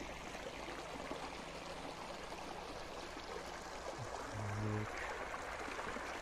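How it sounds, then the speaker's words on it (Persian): The Ab-e Siah river near a tar spring in Dehloran flows in a steady, faint rushing wash, with a brief low hum partway through and no speech. "رود آب سیاه"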